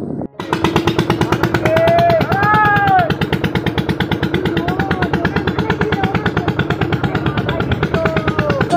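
A boat's engine thuds loudly and steadily at close range as the boat leaves for Lalganj through mangrove waters, and people talk over the pulsing chug.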